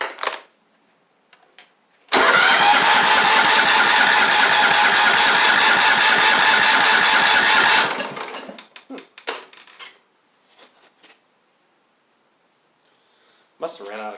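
A John Deere LX176 lawn tractor with a charging issue and a faulty ignition coil starts abruptly, runs loud and steady nearby for about six seconds, then sputters and stalls into silence before brief scattered sounds.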